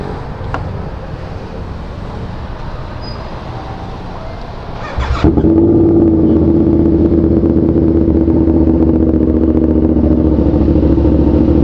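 A motorcycle engine cranks and catches partway through, then settles into a loud, steady idle after a quieter stretch of background noise.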